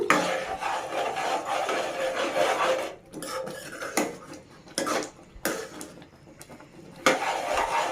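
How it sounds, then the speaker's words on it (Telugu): A spoon stirs semolina into water in a pan over a low flame for tomato bath, making rasping, scraping strokes that come in uneven bursts with brief pauses between them. "స్లో మంట పెట్టుకొని ఒక 5 మినిట్స్ ఇలా కలుపుతూనే ఉండాలి."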